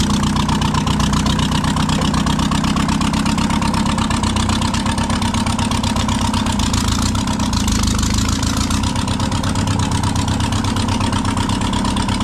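A sports dumper's engine, recently revived after being seized, chugs loudly and continuously with a rough, knocking rhythm as the machine is driven in reverse gear, close and steady throughout.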